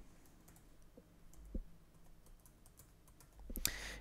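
Keys tapped on a computer keyboard to enter a personal ID code, heard as faint, sparse clicks in a quiet room, ending in a brief louder burst of taps.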